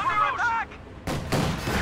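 PTRS anti-tank rifles firing in a battle game, sharp heavy shots arriving in a couple of close bursts after a man's speech, with battlefield noise around them.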